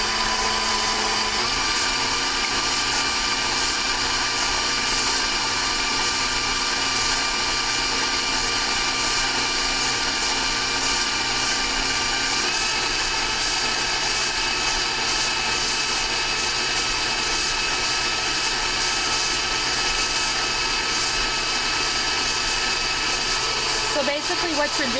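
A high-power kitchen mixer whips cream into butter with a loud, steady motor whine and whirr that runs unbroken throughout, shifting slightly in pitch partway through while a voice talks faintly beneath it.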